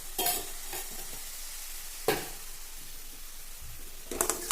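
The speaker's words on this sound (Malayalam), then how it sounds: "തൈര് ചേർത്തോണ്ട് നല്ലപോലെ ഇളക്കി കൊടുക്കുക." Bitter gourd slices mixed with curd are stirred in a bowl, producing quiet, close scraping strokes and wet shuffling, with a couple of sharper clicks of the spoon and no talking.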